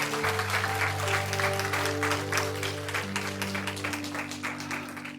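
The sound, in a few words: church congregation applauding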